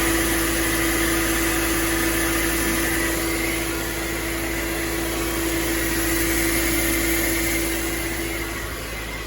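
A Mercedes ML500 engine idles steadily after a repair to its oil cooler leak, a continuous close hum with a constant tonal whine.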